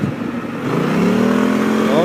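A 2016 BMW C 650 Sport maxi-scooter cruising on an expressway, its engine droning steadily with rising pitch as it accelerates, backed by continuous wind rush.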